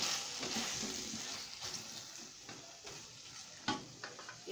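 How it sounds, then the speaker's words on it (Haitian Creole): Bell peppers sizzle as they are stirred into a pot of callaloo sauce, giving a steady close frying hiss broken by soft stirring scrapes and a few sharper clicks, with no one talking. "On va ajouter poivron là-dedans."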